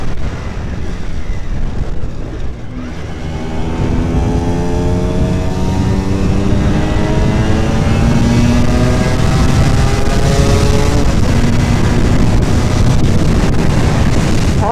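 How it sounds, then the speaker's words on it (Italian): An RS 125 motorcycle engine while riding, a steady loud drone with rising harmonic sweeps as it revs up through gears, mixed with heavy wind rush on the microphone. "Ora sento almeno il rumore del motore"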